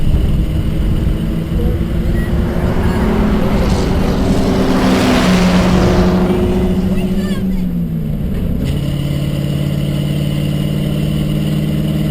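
A vintage Duesenberg car engine at a speed exhibition rumbles steadily, its tone rising and then falling as it revs, a loud continuous drone close by.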